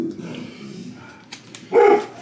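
A single dog bark rings out near the end after a quieter stretch of low background rumble, fairly loud and close.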